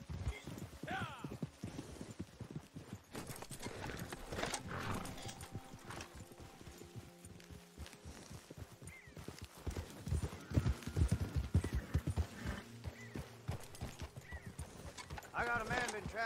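Rhythmic hoofbeats of horses trotting in the video game Red Dead Redemption 2 Online, steady and close, with a brief whinny and people talking over the clatter.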